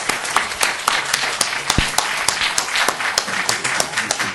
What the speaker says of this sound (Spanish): creo que se merece un gran aplauso de esta sala